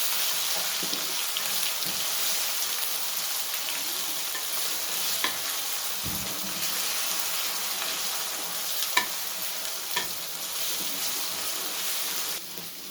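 Garlic-ginger paste and finely ground green chillies fry in a pan, giving a continuous sizzle with occasional stirring scrapes, steady and close.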